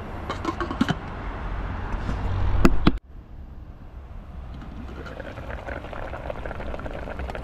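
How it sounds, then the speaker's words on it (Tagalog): A pot of tawilis fish boils with a loud bubbling roil that cuts off abruptly partway through, followed by a quieter, steady simmer. "konting kulo lang to, mga 5 kulo"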